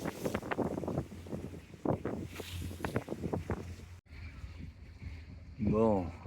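Strong wind buffets the microphone aboard a boat motoring toward an anchorage, with gusty rumbling and low engine drone under people talking; a rising whistle-like tone sweeps in near the end.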